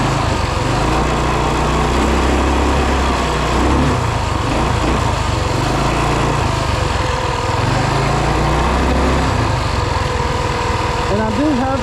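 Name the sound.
2WD Rokon bike with 223cc Wildcat engine riding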